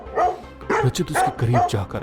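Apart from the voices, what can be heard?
dog barking loudly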